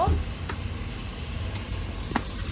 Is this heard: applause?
no